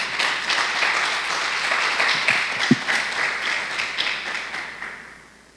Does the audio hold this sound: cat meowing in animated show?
no